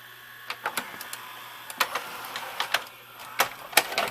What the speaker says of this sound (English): I'll get a quick clip of that head cleaner in action.